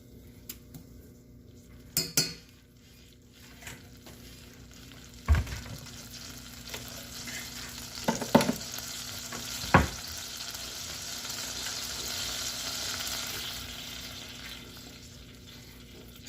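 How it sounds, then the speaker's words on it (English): Margarine melts and sizzles in a frying pan while pork cooks, a steady low sizzle building gradually, broken by occasional clanks and scrapes of a utensil against the pan, close by and without talk. "So this is just a margarine here, I'm melting it."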